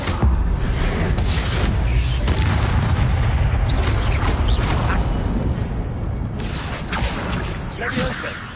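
In Hogwarts Legacy, a Confringo fire spell bursts with a loud booming explosion that rolls into a rumbling, crackling tail. Game voices mix in.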